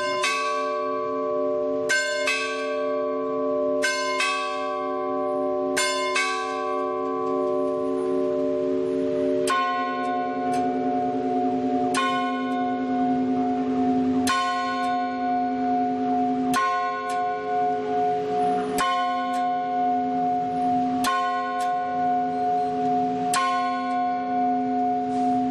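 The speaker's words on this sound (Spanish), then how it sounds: "Estamos esperando que se muevan los martillos que golpean estas campanas y que son las que nos van a marcar la hora." Clock hammers strike a tower's bells to mark nine o'clock. A long series of loud, ringing strokes falls at an even, unhurried pace, each one swelling into a sustained metallic hum, with no voices.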